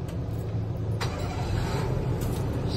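A Daihatsu Mira car engine catches and runs, a close, steady low rumble with a short sharper burst near the start-up moment and no voices.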